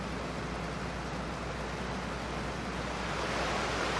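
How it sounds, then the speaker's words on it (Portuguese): A waterfall in Farming Simulator 2015 roars as a steady, dense rush of broadband water noise, loud and unbroken throughout with no other sounds. "Cachoeira ali bem bacana também."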